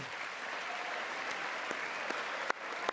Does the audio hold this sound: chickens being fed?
no